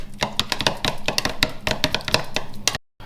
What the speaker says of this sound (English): what I'm doing now is beating the eggs first